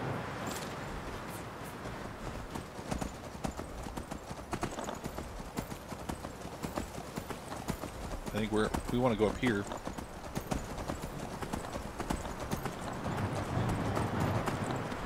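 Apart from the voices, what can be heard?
horse hooves clip-clopping in a video game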